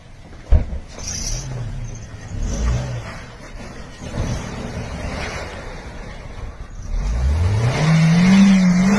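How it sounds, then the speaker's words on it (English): A car speeds away with its engine revving hard, starting with a sharp bang and then a rumbling drive, before the engine note climbs steadily toward the end. "he tries to take off in his car"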